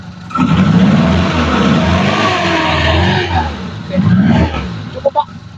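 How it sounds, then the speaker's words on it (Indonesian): A 2002 Suzuki Carry Extra five-door engine is revved up close in a loud sustained run, easing off near the end with a couple of short blips; a voice speaks faintly in the mix. "Coba digas, Pak."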